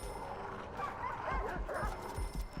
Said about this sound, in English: Is that a dog savaging someone?